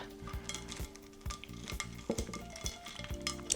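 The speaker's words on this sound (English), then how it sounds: "You can already kind of hear them starting to crisp up." Crisp crackling and light sizzling from air-fried snacks crisping up, with repeated rhythmic scraping and stirring sounds of a utensil against a pan, close and moderately quiet.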